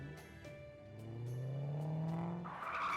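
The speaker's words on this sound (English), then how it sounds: "I hear car noises." In the Fate/Grand Order video game at night, a car engine revs up and rises in pitch as it approaches, ending in a tire squeal, faint and under light game sound effects.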